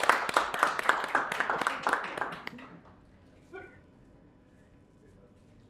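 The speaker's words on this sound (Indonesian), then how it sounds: "Kepada Mas Tota, kita beri tepuk tangan dulu." An audience applauds a speaker invited to the front at a health innovation info session, giving a burst of clapping for about three seconds that fades into quiet room tone.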